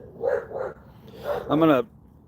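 A dog barks indoors, a few short barks close by and fairly loud, with a person speaking around them.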